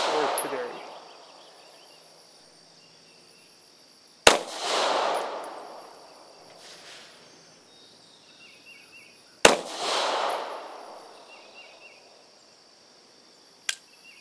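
Beretta APX A-1 and Taurus GX4 pistols fire at a range, three sharp shots spaced several seconds apart, each trailing a short echoing decay, the last one thinner and more distant.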